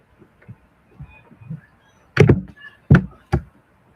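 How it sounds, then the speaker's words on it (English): A door swings shut with a loud thud, then two more sharp knocks or thumps follow in quick succession after a few faint taps. "close the door"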